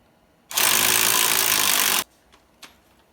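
Impact wrench tightening the front axle hub nut on a Dodge Neon during a wheel bearing replacement: one loud sustained burst of about a second and a half, followed by a couple of faint knocks, with no talking.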